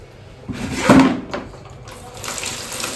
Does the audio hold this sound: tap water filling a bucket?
yes